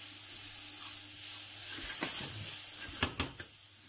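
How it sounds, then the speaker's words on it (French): Shallots gently sweating in a pan, a soft steady sizzle and hiss, followed near the end by a few sharp clicks and knocks from a utensil on the pan. "on va venir faire suer légèrement nos échalotes pendant 1 ou 2 minutes, tout gentiment"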